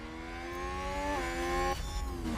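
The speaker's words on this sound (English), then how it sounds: "It's the new Ferrari engine." Ferrari Formula 1 engine in the racing game F1 Manager 2022, a steady high-pitched engine drone with rising and falling revs and a brief shift midway, loud and close throughout.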